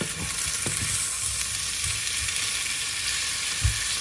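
Filipino shrimp paste (bagoong alamang) and tomato sautéing in a pan without added oil, a steady soft sizzle with occasional scrapes and stirring knocks of the utensil, close and unaccompanied by talk.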